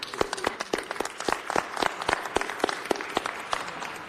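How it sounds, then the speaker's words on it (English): Audience at a city council meeting clapping for an honored guest, with distinct, fairly close individual claps from a modest crowd in a quick uneven rhythm. "Let's give her a big round of applause."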